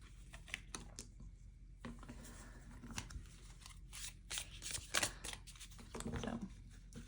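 Tarot cards being shuffled up close, producing faint, quick riffling and flicking bursts against a low background hum.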